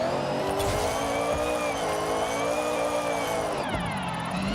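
A racing car engine in a drifting video game, played on a Moza R12 V2 wheel, roars continuously at high revs with a raspy, droning exhaust note and tire squeal, loud and close, with a brief gear-shift dip.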